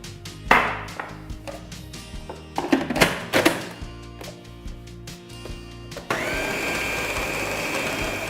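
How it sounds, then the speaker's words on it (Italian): A kitchen blender pulsing homemade pesto alla genovese with grated cheese and oil: a few knocks and clunks first, then the motor starts and runs in a steady loud whir to the end. "mettiamo un po' di olio, non tutto, e cominciamo la prima frullata"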